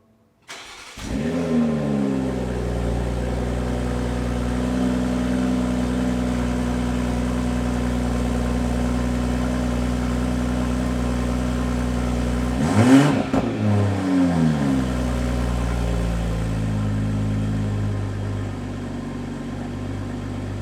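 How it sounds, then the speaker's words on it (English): A car engine cranks and catches on a cold start after sitting overnight, settling into a steady idle with a brief rise in revs partway through, close and continuous throughout. "All right guys, here's the cold start."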